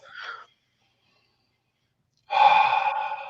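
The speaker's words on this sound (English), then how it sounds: "take a nice deep breath, a cleansing breath" A person draws a deep cleansing breath during evening prayers: a short audible inhale, a pause of silence, then a long, fairly loud breathy exhale or sigh, close to the microphone.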